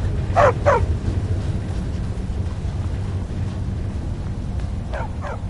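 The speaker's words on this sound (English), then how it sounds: "Don't mind the dogs. They get anxious when they haven't had dinner." Dogs in Skyrim give two quick barks, then pause, then two more quick barks a few seconds later, moderately near over a low steady in-game ambient hum, with no talking.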